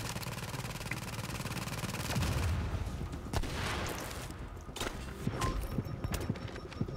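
Gunfire in a shooter video game, rapid rattling shots and scattered cracks, dense at first and then thinning into sparser individual hits, fairly close and without talk.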